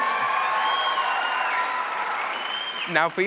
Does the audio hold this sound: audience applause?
yes